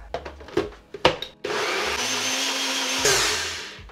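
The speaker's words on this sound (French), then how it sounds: "Et nous, on va aller mixer ça." A blender mixes ingredients for a vegan recipe. A few close clicks and knocks come first, then a loud, steady whirring run of about two and a half seconds that rises in pitch near the end.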